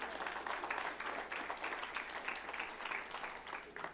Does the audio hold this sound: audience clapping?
yes